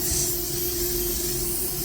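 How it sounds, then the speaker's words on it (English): A freshening spray is misted onto bedding, a steady close hiss that runs without a break through the short moment, with no talking over it. "A lot of times I'll spray it on the sheets"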